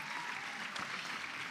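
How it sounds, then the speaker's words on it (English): Steady applause from a seated audience at a girl-child summit, fairly faint and diffuse, a continuous wash of many hands clapping without a break and with no talking over it. "we can still clap for her in absentia"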